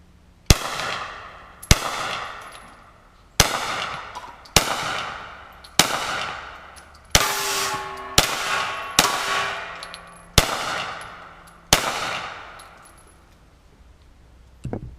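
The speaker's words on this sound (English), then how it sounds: "Now, I just fired my cheap ammo and showed that this rifle has absolutely no problem firing cheap ammo" A Hi Point .40 S&W carbine fires cheap ammunition outdoors, nine sharp, loud shots at a steady pace, each ringing off into a decaying echo.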